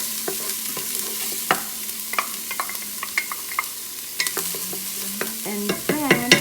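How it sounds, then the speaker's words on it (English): Onions fry in a pan for lentil spaghetti sauce, a light sizzle beneath repeated clinks and scrapes of a utensil stirring, growing busier toward the end. "the first thing that I'm going to add are my onions"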